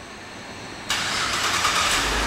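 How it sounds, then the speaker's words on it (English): A Cadillac CTS 4 coupe, a 2011 AWD model, starts by remote: quiet ambience, then an abrupt crank and catch into a steady idle close by. "and the car starts right up"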